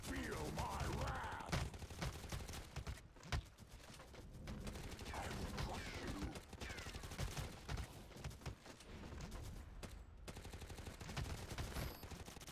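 Rapid bursts of automatic gunfire and shots from a Shadow War video game gun fight, loud and nearly continuous across the whole stretch, with brief pauses and a few sharper single shots.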